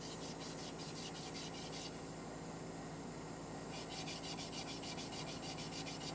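Sandpaper rubs steadily over a cherry wood yarn bowl in a continuous, close-up scratching hiss with a regular back-and-forth rhythm.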